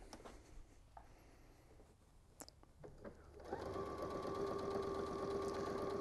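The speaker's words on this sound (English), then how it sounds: "I'm going to take it to a sewing machine, and I'm going to run a straight stitch" After some faint handling clicks, a sewing machine starts up and runs a straight stitch steadily, a close, continuous mechanical whir with a fast stitching patter.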